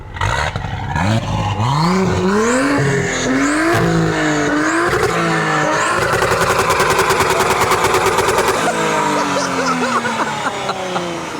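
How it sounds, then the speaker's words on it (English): An Audi's turbocharged engine revs hard several times, rising and falling in pitch, then settles into a rapid, rattling drone; loud and close. "All you can hear is turbo."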